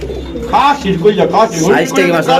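Racer pigeons coo in loud, close, throaty rolling calls that repeat several times in quick succession, with a voice blending in.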